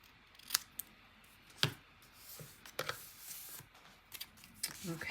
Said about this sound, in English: First I want to angle cut it to just give it a little bit of character.